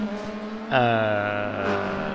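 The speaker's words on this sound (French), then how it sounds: "Little Boy avec la Peugeot 405" A Peugeot 405 touring car in rFactor 2 at Brands Hatch, BTCC 1990s spec, passes close by: a low engine drone jumps suddenly into a loud, rising whine that then settles as the car pulls away.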